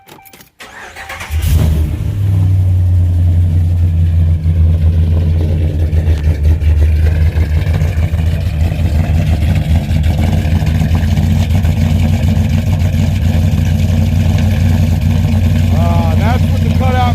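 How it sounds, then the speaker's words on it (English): A supercharged, cammed Ram pickup truck engine cranks on a cold start and catches, then settles into a loud, deep, rumbling idle that holds steady and close, exhaust cutout closed. "let's get a little cold start going"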